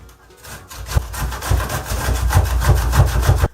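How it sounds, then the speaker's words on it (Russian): Zucchini rubbed down a large grater while preparing filling for open dumplings cooked over a campfire, producing quick repeated rasping strokes in a steady rhythm that grow a little louder and closer toward the end. "Теперь кабачок шинкуем на большой терке."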